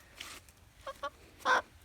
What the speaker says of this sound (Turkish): tavuk adayımız artık bizim. Civcivimiz. Civcivimiz ama tavuğumuza dönüşmek üzere artık.